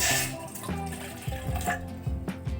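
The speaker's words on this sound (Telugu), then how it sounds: "నేనైతే కొద్దిగా వాటర్ పోస్తున్నానండి" Water pouring from a tap into a pot while preparing a henna mixture, a steady close splashing flow with gurgling, heard alone.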